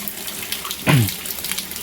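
Cold water from a shower on a mountainside pours in a steady, close rush, swelling with one brief louder gush partway through.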